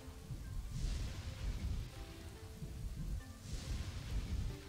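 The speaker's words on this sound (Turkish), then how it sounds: "Yağmur yağıyor, yangın." Rain pours steadily in the video game Kingdoms and Castles, a dense, constant hiss with a low rumble beneath and two soft swells of heavier downpour.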